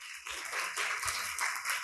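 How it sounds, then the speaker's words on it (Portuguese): A church congregation applauding together, a steady wash of clapping hands that holds at an even level throughout, sounding full and moderately close with no talk over it. "Você pode aplaudir ao Senhor?"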